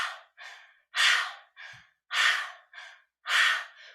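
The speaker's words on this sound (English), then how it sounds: "Keep it going, breathing through that open mouth." Heavy open-mouth breathing during a kundalini yoga kriya, a steady rhythm of forceful breaths in a close, loud sequence of about eight strokes alternating stronger and weaker, with no talk.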